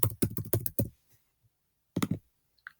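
A computer keyboard typing a search query, with a quick burst of close, loud key taps, a pause of about a second, then a shorter cluster of taps. No voices.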